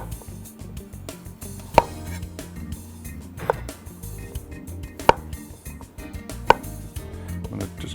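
Kitchen knife trimming the edges of a ginger root on a cutting board: four sharp, spaced chops against a low background hum, no talk.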